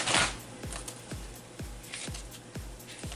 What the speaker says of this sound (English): So I'm just going to take some envelopes from out of here.